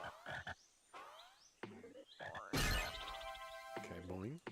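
Frog croaks from the Putty Squad video game, several short cartoonish calls mixed with bouncy game effects and music, fairly loud and close, with a voice talking over parts of it.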